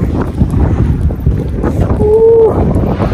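Strong wind roars steadily against the microphone on a boat, with water and a brief exclamation heard through the gusts.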